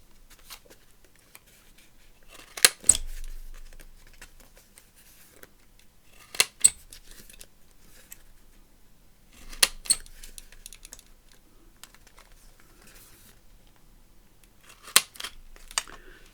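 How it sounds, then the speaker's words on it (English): A 1/4 inch corner rounder punch cutting the corners of paper ephemera, giving sharp isolated clicks in small clusters spaced a few seconds apart, close and quiet with silence between. "now all I'm going to do is round the corners. I'm just going to use my 1/4 inch side"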